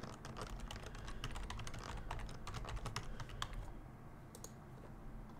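Fingers tap across a computer keyboard in a quick, uneven run of close clicks that thins out toward the end, heard alone without speech.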